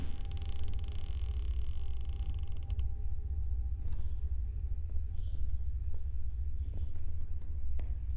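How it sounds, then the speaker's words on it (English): A door creaks open in a horror video game, a long, loud, grinding creak with dense harmonics for a few seconds, then scattered faint clicks and low rumble. "the door's open now"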